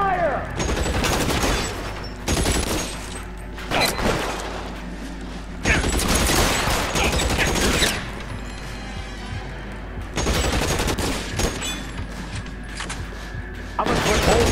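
A shootout in the video game L.A. Noire: dense bursts of rapid gunfire and machine-gun fusillades in waves with brief lulls between, loud and close, with shouted voices mixed in.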